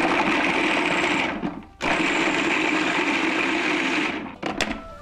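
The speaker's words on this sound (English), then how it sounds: "I'm gonna pulse chop it until it's tiny little pieces, same as rice" A food processor pulse-chops parsnip into a vegan rice substitute, giving two loud, steady whirring bursts with a short pause between them and a brief stop near the end.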